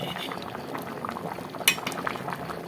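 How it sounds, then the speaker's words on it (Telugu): Mango fish curry bubbling in a pot, a quiet continuous simmer of small pops and bursts with one sharp clink of a utensil midway. "చూడు కూర కూడా ఎలా మసులుతుందో, చక్కగా వేడిగా మంచిగా"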